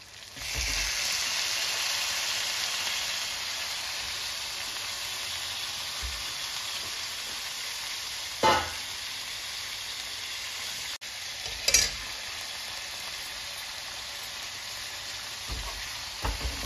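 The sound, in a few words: half kg chicken being mixed and fried in a pan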